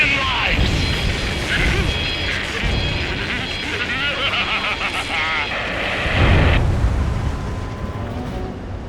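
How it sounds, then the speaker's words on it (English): Explosions in the video game Ace Combat 7, in a DLC mission where a rail cannon is destroyed, make a dense, continuous roar of blasts and crashes with rumbling bursts layered over one another. "Confirming explosions."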